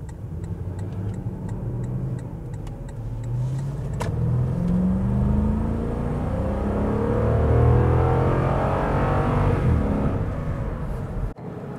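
A Lexus LX 570 with an 8-speed transmission pulls hard out of a parking lot at full throttle. The engine note rises steadily and stays loud and close for the whole run, heard from inside the cabin with no talking.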